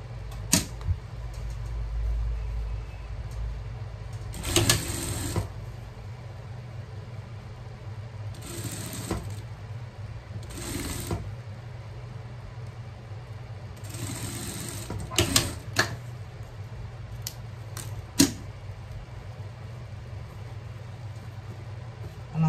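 A sewing machine stitches elastic onto fabric in bursts of fast, buzzing whirs separated by pauses, with a steady low hum underneath, close and moderately loud.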